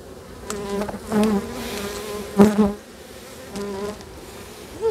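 Honey bees buzzing close by during a hive inspection, a dense droning hum rising and falling in loudness with a few louder swells as bees pass near.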